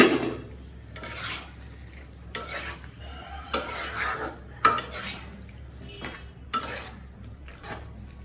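A spoon scrapes and stirs through a pot of wedding-style vegetable curry after powdered milk is added. It comes in repeated close, loud bursts of metal-on-pot scraping, with a soft simmering hiss between strokes.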